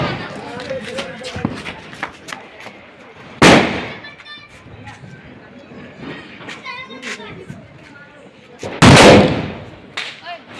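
Diwali firecracker bombs explode in two sharp, loud blasts several seconds apart, with people talking nearby in between.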